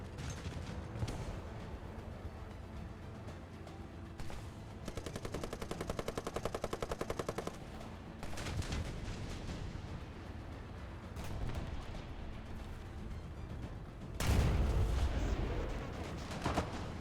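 Gunfire from the video game Apex Predators: bursts of rapid automatic fire and scattered single shots, mostly at moderate distance, end in a louder close blast, with occasional quiet talk.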